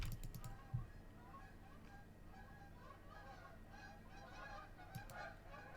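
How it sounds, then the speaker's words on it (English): Geese or ducks migrating past a house at midnight honk a few times, faint and distant, with a short burst at the start and another near the end over a steady low background hum. "There are apparently geese or ducks migrating past my house right now at midnight."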